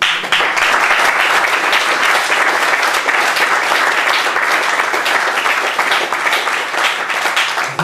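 Sustained, loud applause from a concert audience fills the whole stretch, dense and steady with only a slight fade at the very end.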